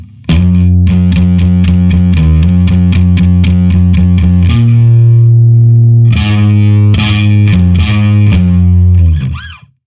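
Heavily distorted bass guitar plays the closing bridge phrase of a song, loud and thick, with fast repeated picked notes that give way to longer sustained notes and a final slide, with no talking.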